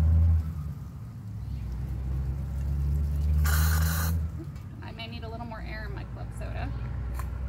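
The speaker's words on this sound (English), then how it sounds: "And I'm gonna top it with club soda." Club soda poured into a plum cocktail gives a brief loud fizzing rush, followed by softer bubbling while a person talks over a low background hum.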